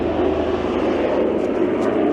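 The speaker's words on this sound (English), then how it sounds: "there's the helicopter coming back from the Earth Sea Rescue" A sea rescue helicopter flies over a seaside promenade, its engine droning steady and fairly loud throughout with no break.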